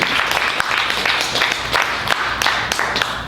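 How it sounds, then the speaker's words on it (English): An audience claps at a poetry reading during a book launch at Malvern Books, giving dense, steady applause that carries on for a few seconds. "thank you for clapping."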